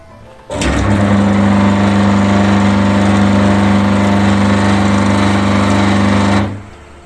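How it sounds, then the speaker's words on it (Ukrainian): A washing machine motor switched on at the wall socket hums loudly and steadily at close range, starting abruptly and running for about six seconds before cutting off, with no speech. "Як бачимо, двигун працює нормально."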